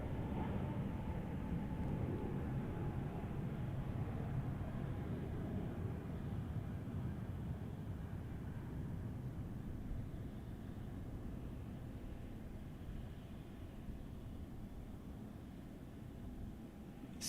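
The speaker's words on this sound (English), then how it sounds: "I can hear those Pratt & Whitney engines" Spirit airliner powered by Pratt & Whitney engines, a steady broad roar from a passing jet that holds loud throughout and eases slightly toward the end, with no talk over it.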